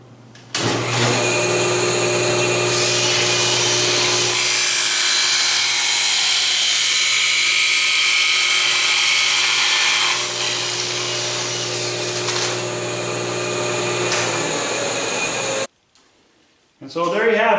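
A table saw with a barrel taper tool cutting a 12-inch taper, a loud steady motor whine with blade noise running for about fifteen seconds before cutting off, then a voice starts at the end.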